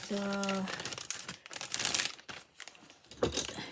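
A plastic piping bag crinkles and rustles up close as a 1M star tip is pushed inside, with brief scrunching bursts and a tonal sound near the start, under soft background noise.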